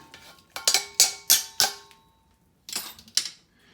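Drained Kraft macaroni noodles tipped back into a pan, a run of sharp metallic clanks and knocks in quick succession, a short pause, then two more clattering hits, close and alone.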